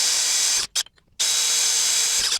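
A power drill drives screws into metal 1-2-3 blocks in a DIY shop, running in a long steady whir, then a brief stutter of short bursts and a pause, then another long, loud whir.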